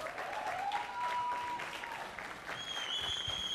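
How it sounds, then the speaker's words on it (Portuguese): A church youth-service congregation applauds its pastor, with steady, moderately loud clapping from a crowd and a faint whistle-like tone drifting through it. "eu queria que vocês aplaudissem o nosso pastor Altair Pai"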